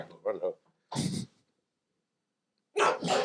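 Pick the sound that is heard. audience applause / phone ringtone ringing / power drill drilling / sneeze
sneeze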